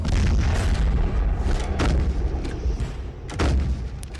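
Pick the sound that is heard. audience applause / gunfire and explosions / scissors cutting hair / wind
gunfire and explosions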